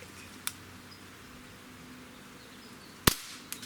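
Walther CP99 air pistol firing, with two sharp, sudden cracks spaced apart and a fainter third snap at the end, in an otherwise quiet setting.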